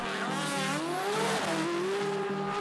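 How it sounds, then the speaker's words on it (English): An AMS Performance Omega Alpha GT-R drag car launches hard down the drag strip, its engine note rising in steady pulsing bursts as it gathers speed, loud and close with no talk. "With a good but less than perfect launch, Ivan was off."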